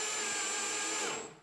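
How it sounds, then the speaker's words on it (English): A drill drives screws into a drawer box during a drawer installation, whirring steadily and fairly loud at close range for about a second before spinning down and stopping. "I don't know how loud this drill is"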